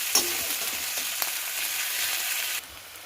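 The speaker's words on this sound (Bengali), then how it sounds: "তেলের সঙ্গে মিশিয়ে ভেজে নেব" Onions frying in oil in a pan with a pinch of salt, a steady close broadband sizzle with a few stirring clinks, continuous throughout and dropping sharply in loudness near the end.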